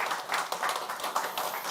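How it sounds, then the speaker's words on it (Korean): Church congregation clapping in welcome during a Sunday worship service, a quiet, dense patter of many hands held steadily throughout. "우리 박수로 환영하겠습니다"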